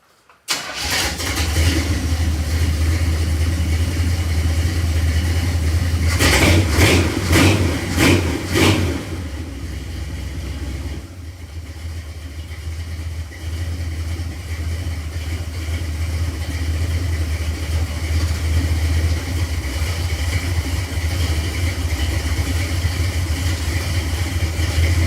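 A 1972 Chevrolet Caprice four-door hardtop with a 400 cubic inch small-block V8 cranks and fires, then settles into a loud, steady idle close by, with a short burst of sharp revs early on before running evenly again, with no talking.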